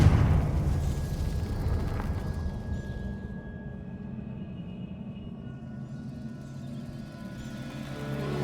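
Confringo fire spell explosion in Hogwarts Legacy: a loud, booming burst at the start that rolls into a long rumbling, crackling decay, with no talk.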